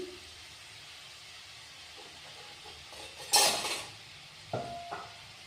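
Rice and wheat flour sev dough dropped into hot oil, giving a short burst of sizzling and then a couple of fainter crackles over a quiet kitchen background.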